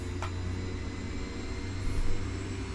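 Twin turboprop engines of a DHC-6 Twin Otter 300 in X-Plane 11, at Rothera in Antarctica, hold a loud, steady droning roar with a low throbbing hum and a faint swell near the end, without any talking.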